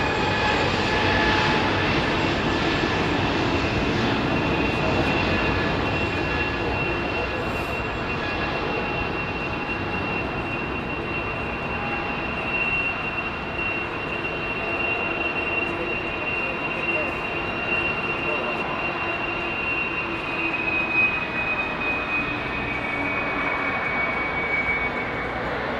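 A jet airliner at London Heathrow rolls along with its thrust levers pulled back, giving a steady, broad engine roar with a high whine that holds loud and constant throughout.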